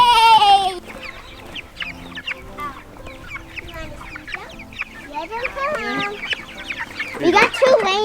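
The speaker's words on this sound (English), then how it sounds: "We got 2 laying hens this time." Laying hens cluck and squawk up close in short bursts, with louder agitated calls near the end, while people talk nearby.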